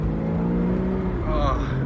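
A Porsche Boxster S engine hums steadily at a smooth, moderate pitch, fairly close, with a slight rise in revs near the end under a speaking voice.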